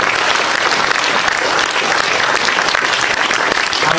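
Steady, loud applause from a large crowd at a school during a political election campaign launch fills the whole stretch with dense clapping and no pauses.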